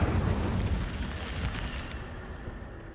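An Incendio fire spell cast in a video game, a broad roaring whoosh of flame that starts loud and slowly fades over a few seconds, alone without talk.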